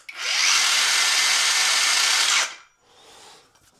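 Hercules 4.5-inch brushless saw running freely at arm's length, a high, even whine starting abruptly and holding for about two seconds before cutting off and spinning down quickly into quiet.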